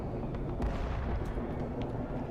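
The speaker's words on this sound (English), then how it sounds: "I mean, I like the fireworks." Fireworks bursting in the horror video game Amnesia: A Machine for Pigs, a dense continuous rumble of low booms with a few sharper crackling pops, steady and moderately loud, with no talking.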